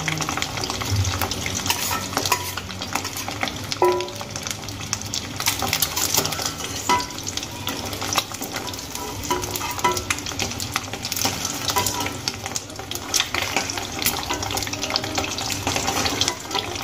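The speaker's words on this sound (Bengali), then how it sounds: "এবার ডিমগুলো ভেজে নেব" Eggs frying in hot oil in a wok, a steady broadband sizzle and crackle running throughout with occasional scrape and clink of a utensil against the pan, no talking.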